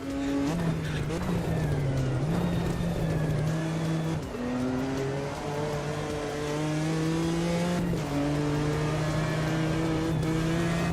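Mini Cooper race car in a racing video game, its engine droning steadily with gear changes rising and dropping in pitch, loud and continuous while someone talks over it.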